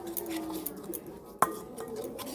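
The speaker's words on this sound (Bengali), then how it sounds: "এবার এটাকে ভালো করে মশলার সঙ্গে মিশিয়ে নেব।" Hot oil gets stirred into spices for mango pickle, with soft scraping and a sharp utensil clink against the bowl partway through over a quiet background.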